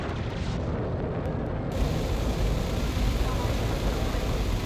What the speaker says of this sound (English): This thing is a real flamethrower that is literally setting people on fire.